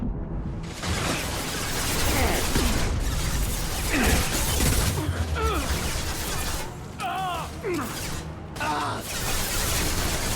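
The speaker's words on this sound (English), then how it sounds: "Firing a high-impact shot." A high-impact gunshot in the sci-fi shooter Mass Effect 2, heavy mechanical blasts and crunching impacts layered over a dense, busy combat soundscape with swooping effects, loud and continuous throughout.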